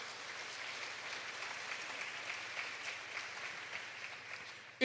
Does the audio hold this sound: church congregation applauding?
yes